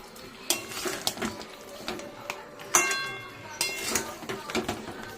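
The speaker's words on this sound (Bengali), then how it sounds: "এবার এটার সাথে ভালো করে মিশিয়ে নেব, মিশিয়ে তারপরে আর একটু কষবো" Bhetki fish bones being stirred and sautéed with spices in a pan, giving repeated close metallic clinks and scrapes of a utensil against the pan, with soft sizzling and some talk in between.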